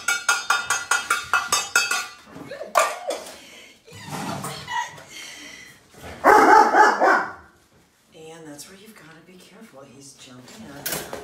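A 90-pound dog barks in a rapid run of sharp, loud barks near the start, with scattered later barks amid rustling and talk during recall training.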